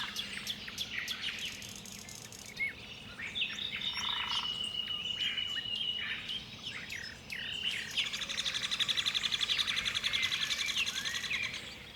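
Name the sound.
forest ambience with birds and rustling leaves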